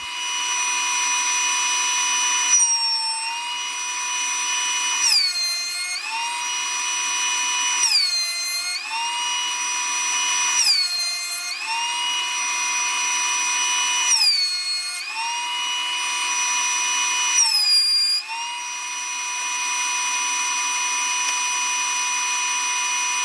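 A power planer runs steadily on a live edge walnut slab, a loud sustained whine that dips and recovers in repeated passes roughly every two to three seconds, alone with no talk.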